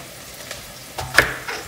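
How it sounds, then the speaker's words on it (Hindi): Softening onions sautéing in a pan for achari aloo baingan: a low, quiet sizzle with a few soft stirring knocks and scrapes. "बस थोड़ा सा सौते कर रहा है, इसको नरम हो गया प्याज।"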